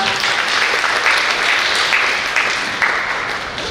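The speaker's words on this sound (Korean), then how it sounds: "여러분 큰 박수 부탁드립니다" A forum hall crowd at the 2026 Suseong International Biennale pre-biennale breaks into sustained, loud applause, a thick continuous patter of many hands that eases slightly toward the end.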